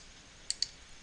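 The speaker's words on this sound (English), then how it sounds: "Keyboard." Two sharp computer keyboard clicks close together, then a third crisp click at the end, near and distinct over a quiet room hiss.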